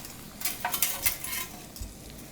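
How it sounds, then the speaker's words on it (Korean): Japchae ingredients sizzle and crackle as they are stir-fried in a pan, with soft scraping and clicks of a spatula moving them around, fairly quiet and close with no talk. "이렇게 잠시 볶아갖고 불을 끄고 기다려주세요."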